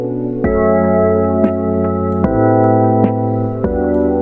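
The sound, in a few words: vintage chorus audio effect in FL Studio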